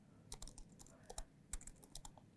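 Fast, light typing on a computer keyboard while code is entered: quiet, uneven bursts of crisp key clicks with short pauses, close and alone.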